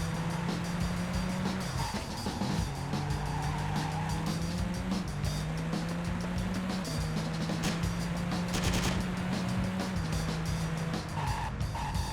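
Car chase in the Miami level of Driv3r, with tires skidding and squealing in long sustained streaks over a constant roaring engine, close and loud, and no talk.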